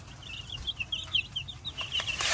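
Buff Minorca chicks in a brooder give a steady run of high, rapid peeping and soft clucking, close and continuous, with faint rustling toward the end.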